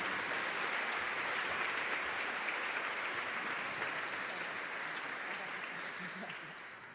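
Warm audience applause welcoming a doctor to a lecture hall, steady, dense clapping from a large crowd that holds for several seconds and slowly fades.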